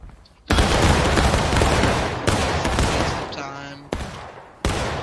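A musket volley fired in the game War of Rights, sharp bursts of massed gunfire in several waves, loud and crackling, with short gaps between the blasts and shouted voices in between.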